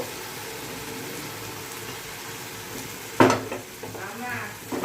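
Chicken pieces drop into hot oil and fried spice paste for chicken kosha, bursting into a loud sizzle at once, then a steady frying hiss with softer crackles that swells again near the end.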